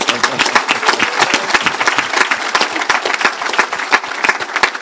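A church congregation claps together in warm, continuous applause made of dense, rapid hand claps, fairly close and loud, with no voices over it.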